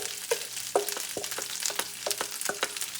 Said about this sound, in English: And now let's add our rice.